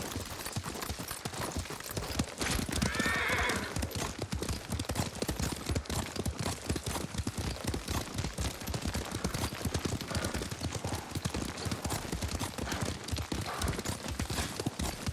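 Horse hooves clip-clop at a steady gallop while riding through the Ghost of Tsushima game world, a dense, continuous drumming of hoofbeats close up that runs throughout without pause.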